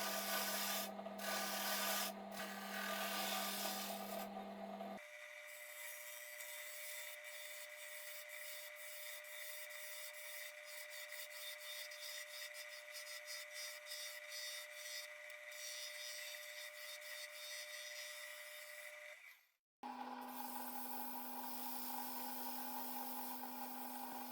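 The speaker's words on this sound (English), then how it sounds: "I sanded it with 60 to 1000 grit paper" Steady abrasive rubbing of turned wood with sandpaper on a spinning lathe, with a constant motor whine throughout and a brief pause near the end.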